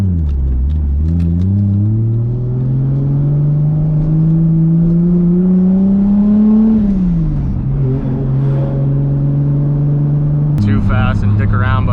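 A Toyota Supra MK4 with over 800 horsepower cruises on the road, its engine droning steadily and rising in pitch as it accelerates, easing off, then holding a steady rumble before a sharp change near the end.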